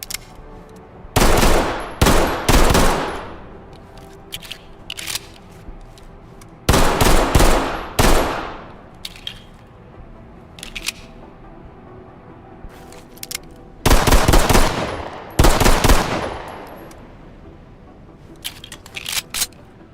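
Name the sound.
TLE 1911 pistol firing in video game Ready or Not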